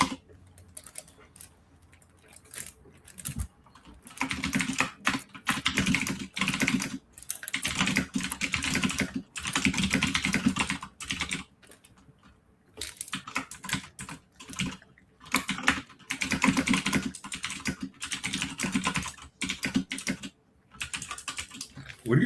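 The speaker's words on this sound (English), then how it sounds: "What are you typing?" Typing on a computer keyboard, close and fairly quiet, in rapid bursts of key clicks separated by short pauses, continuing steadily for over twenty seconds.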